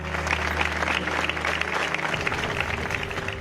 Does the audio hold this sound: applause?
yes